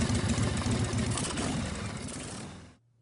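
A motorcycle engine with an S&S Super E carburetor runs steadily at a lumpy idle for a few seconds, then cuts off abruptly, leaving a faint low hum.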